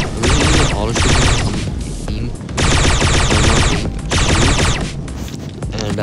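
Automatic gunfire in a mobile shooter game, set to auto shooting, rattles in loud dense bursts nearly throughout, with brief dips between volleys and a voice talking over parts of it.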